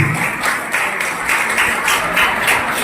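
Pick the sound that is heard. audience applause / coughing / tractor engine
audience applause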